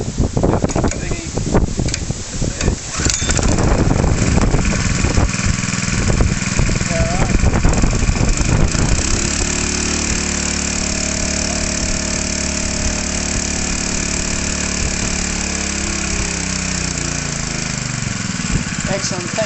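A small engine on a Slatts portable pump drill starts and runs, rough and uneven at first, then settling into a steady, loud, droning idle heard close throughout.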